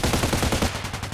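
Rapid burst of gunfire in the Contract Wars shooter game, a loud, close sniper rifle shot followed by a quick run of repeated shots with a steady rhythm, no talking.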